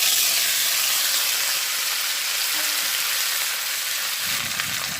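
Sweet pumpkin dropped into hot oil with whole cumin and radhuni seeds in a village kitchen, a loud, dense, continuous sizzle and hiss throughout, no voices.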